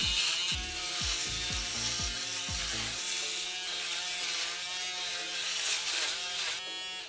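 A Babyliss Pro titanium foil shaver buzzing steadily while shaving a head, a close, continuous electric hum with rasping strokes against the scalp.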